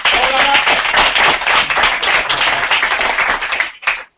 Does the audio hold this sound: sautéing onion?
no